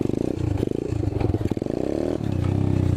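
An Apollo 125cc dirt bike revs hard during a wheelie attempt, its buzzing engine rising and falling in pitch with throttle blips and some rattling clatter, close and loud.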